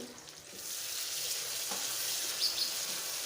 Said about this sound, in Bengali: মটরটা কষানো হয়ে গেছে